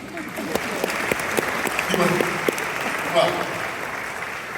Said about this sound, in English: Let me give them a round of applause for doing that.